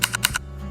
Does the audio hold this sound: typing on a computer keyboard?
yes